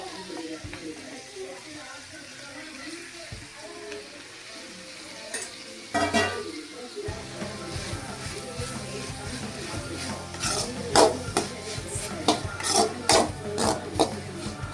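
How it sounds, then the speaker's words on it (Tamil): Carrots sautéing in a pan for millet (kambu) noodles, with steady frying sizzle and scraping, clattering stirring strokes that grow busier and louder toward the end; a voice is heard briefly near the start. "இப்போ வந்து அந்த கட் பண்ணி வச்ச கேரட் போட்டுக்கலாம்"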